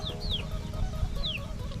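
Chickens give soft clucks and a few short high calls at a coop in a Thai village in the evening, faint against a low rumbling background with no speech.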